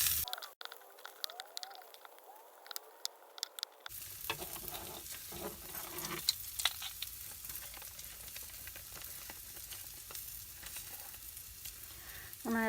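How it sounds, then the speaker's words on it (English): Flour is stirred into sausage grease in a 6-inch mini skillet, bringing a steady hiss of frying with spoon scrapes and small crackles, close up and without speech. "I'm going to add half teaspoon of flour to this sausage grease. And I'm going to mix it up with the sausage."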